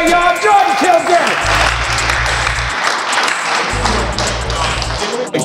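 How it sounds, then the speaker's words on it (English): Crowd applause at a $50,000 dunk contest, a sustained wash of clapping that holds steady throughout, with a brief voice near the start and heavy thumping bass pulses from the arena beneath. "Give him a round of applause anyway"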